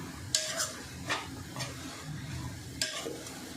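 A spoon stirring shevga leaf and moong dal bhaji in a pan. A few separate scraping strokes against the pan sit over a soft, steady sizzle, close and moderately quiet.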